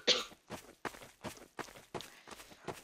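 A person coughs repeatedly, about seven short harsh bursts at a steady rhythm, close to the microphone with no talking.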